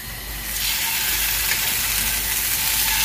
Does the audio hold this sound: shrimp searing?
yes